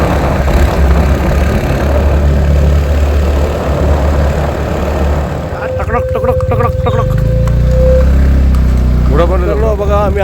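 A motorbike climbs a hill road near Mahabaleshwar on a cold morning, its steady engine drone rumbling close and loud beneath continuous talk from the riders.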